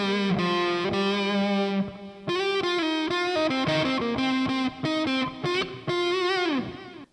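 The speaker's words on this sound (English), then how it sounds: "your third and last overdrive is your US Classic Overdrive. It's supposed to be like a Fender's Blues Deluxe" Electric guitar played through the US Classic Overdrive setting on a Lekato PA-1 pocket amp, modeled on a Fender Blues Deluxe: sustained overdriven chords and bent notes, loud and alone, with short breaks between phrases.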